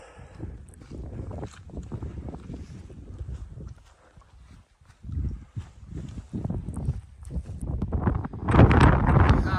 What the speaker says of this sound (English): still windy, foggy, cold